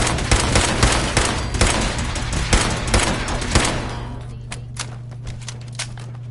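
Rapid automatic gunfire from a Fallout 4 firefight, dense bursts of close shots for several seconds, then thinning to a few scattered single shots and faint footsteps.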